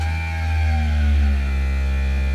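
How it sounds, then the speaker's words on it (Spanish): Fuel pump of a Ford Capri RS3100 competition car running, heard as a steady, loud electrical hum with a strong buzzing drone and no change over the short stretch, with no voices. "bomba de gasolina"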